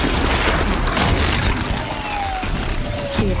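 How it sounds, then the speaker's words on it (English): Corrupted launcher machines fire in Horizon Zero Dawn, giving a steady wall of booming blasts and shattering impacts, with whistling projectiles streaking past under game music. "Damn him. Corrupted launchers."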